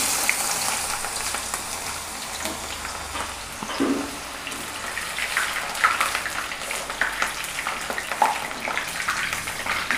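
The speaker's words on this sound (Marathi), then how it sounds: "तेल पण चांगलं गरम झालेले आणि आता मी यामध्ये हे चिप्स टाकणार आहे" Potato chips for crispy Marathi-style chips frying in hot oil on a gas stove, a loud continuous bubbling sizzle close up with crackly bursts throughout, no voices.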